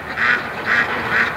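Ducks by a swampy creek give three evenly spaced, loud nasal quacks close by, with no talk over them.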